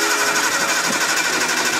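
A Nissan Skyline R32 engine, a barn-find GTR, cranks on the starter during a compression test of cylinder five, giving a loud, steady, rapid mechanical whirring chug throughout.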